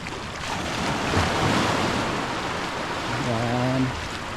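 Sea waves wash continuously onto the beach at Aplaya in Digos City in the early morning. The surf makes a loud, steady rushing roar with some wind, and a brief tonal sound rises over it near the end.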